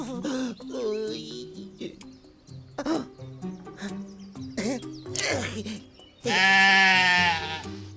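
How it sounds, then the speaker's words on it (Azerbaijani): Several loud, wavering bleats from a goat, one long drawn-out cry near the end, with voices talking around them. "Axı bu doğrudan da keçi səsidir."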